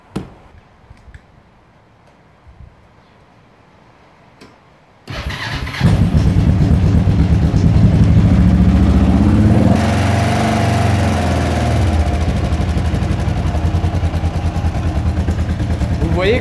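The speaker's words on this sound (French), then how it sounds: "Mais la moto, elle démarre au quart de tour." A trail motorcycle with freshly rebuilt carburettors starts from cold on choke. After quiet clicks, the engine fires abruptly and settles into a loud, steady, close idle with a slight rise in pitch.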